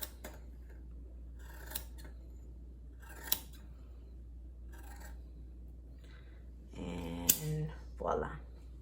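Scissors snip through the bottom of a shirt in a few separate, crisp cuts spaced apart, with a longer burst of cutting and rustling fabric near the end over a steady low hum.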